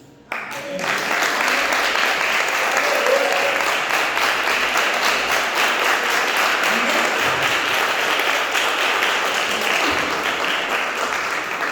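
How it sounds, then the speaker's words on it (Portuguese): Congregation applause at a church celebration service, starting abruptly after a brief quiet moment and swelling into a loud, sustained roar of many hands that holds steady to the end. "você dê uma salva de palmas para você mesmo"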